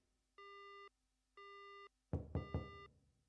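Busy signal on a dead phone line in the Death Mark video game: two steady half-second tones with pauses between them, then a third tone masked by a loud burst of knocks.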